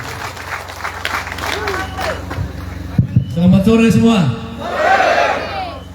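A crowd at a regional campaign rally in Sumba Barat Daya claps and cheers, with shouts and chanting rising over steady clapping and a loud, brief greeting spoken into a microphone.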